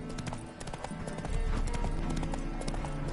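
Horse hooves clip-clopping in The Witcher 3 video game: a steady rhythmic patter of close, crisp hoofbeats that grows louder partway through, with faint ambient game sound beneath.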